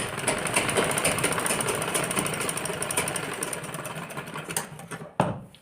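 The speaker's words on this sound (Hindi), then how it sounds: "यहाँ पे इस तरह से सिलाई मार देंगे पूरी में" A sewing machine runs steadily while stitching a blouse, with a continuous close mechanical whir that holds for several seconds before stopping near the end.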